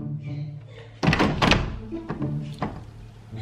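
An object thrown indoors strikes a door with a loud, heavy thunk, followed by a few smaller knocks and rattles, close by in a quiet room.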